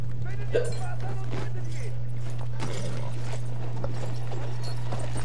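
Rhythmic hoof clip-clops from a horse in Battlefield 1, steady and mid-distance, with a constant low hum and a voice talking over them.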